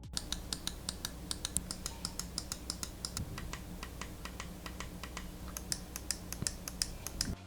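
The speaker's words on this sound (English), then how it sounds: "I do a little sound test on the mouse." A Gravastar Mercury computer mouse has its buttons clicked in rapid, fairly regular taps during a sound test. The sharp, crisp clicks sit close and clear over a faint background hum.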